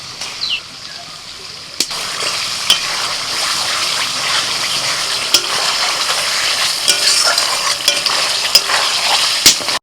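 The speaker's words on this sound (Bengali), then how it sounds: "মশলার সাথে ডিমটাকে কষিয়ে নিয়েছি" Boiled, fried eggs are stirred and sautéed in a spice masala with yogurt, a loud, close, continuous sizzle with scraping spoon strokes and a few sharp knocks against the pan for an egg biryani.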